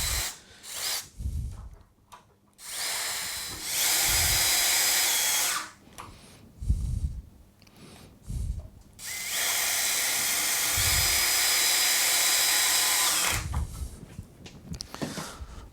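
A power drill bores a centre hole for a door hinge through a UJK hinge jig with clamp plate. It comes in several loud whining bursts of a few seconds each, separated by short pauses and clunks.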